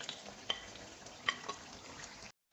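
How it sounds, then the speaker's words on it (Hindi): Spinach and chicken stir-frying in a pot for chicken palak, a soft steady sizzle with a few light scrapes and taps of a spoon against the pot, ending abruptly. "अब हम इसे अच्छे तरीके के साथ 10 मिनट के लिए भून लेंगे"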